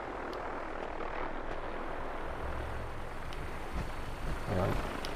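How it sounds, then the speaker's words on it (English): Steady rumbling rotor and engine noise of a helicopter flying overhead in Fallout 4 fills the whole stretch, broad and constant, with a brief thump near the end. "Hear another helicopter."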